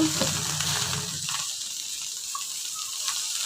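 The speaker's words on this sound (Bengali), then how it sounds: "এরকম বেরেস্তার মতো করে ভাজতে হয় আমার, নয়তো খায় না" Bitter gourd and potatoes frying, a steady soft sizzle with a brief clatter of stirring at the start, close and without talk.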